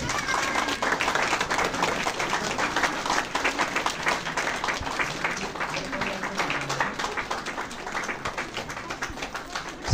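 Wedding guests applauding inside a church, a dense, sustained wash of many hands clapping from a room full of people, steady for the whole stretch with a busy crowd texture.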